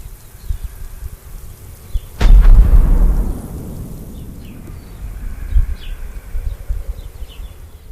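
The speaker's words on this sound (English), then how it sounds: "locals fire off old milk cans or small cannons, creating incredibly loud explosions" One loud, deep blast from old milk cans or small cannons fired at Greek Easter booms out and rumbles away, followed by a low outdoor background with faint scattered bangs.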